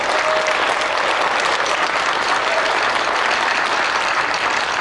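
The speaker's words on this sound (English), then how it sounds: "put your hands together and applaud all of those people who were there last night" Steady, dense applause from a large audience at a memorial gathering, continuous clapping filling the room at an even level throughout with no talk over it.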